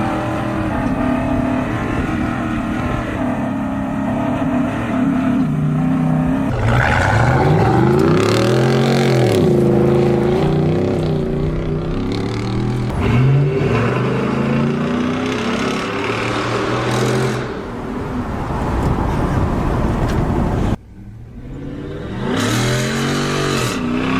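A loud Ford SVT Raptor pickup truck engine revs hard and climbs through the gears, pitch rising and falling repeatedly, with a brief drop before it roars again.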